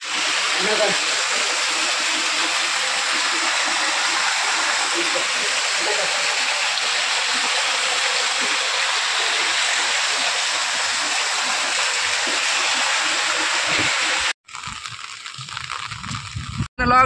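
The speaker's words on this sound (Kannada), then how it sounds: "ಕುಮಾರಧಾರ ನೇತ್ರಾವತಿ ನದಿಗಳ ಪ್ರವಾಹಕ್ಕೆ ರಾಷ್ಟ್ರೀಯ ಹೆದ್ದಾರಿ ಬಂದ್." The flooded Kumaradhara and Netravati rivers rush together at their confluence near Uppinangady in a loud, constant roar of churning water. The roar runs unbroken for about fourteen seconds, then cuts abruptly to a quieter scene.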